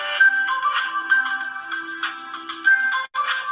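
A phone ringtone plays loud and close, a repeating electronic melody of bright chiming tones that cycles several times and then cuts off briefly before resuming.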